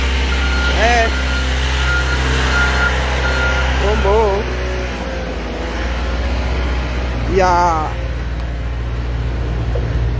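A vehicle backs up on a street with repeated reversing beeps, then drives past with a low engine rumble, while someone talks nearby.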